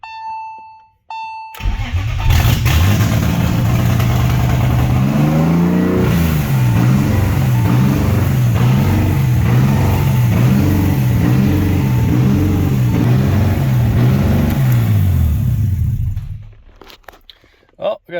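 A BMW E30 with an S52 engine swap cranks and fires up after a short pause, then settles into a loud, close rough idle with repeated rhythmic revs for about fifteen seconds before shutting off.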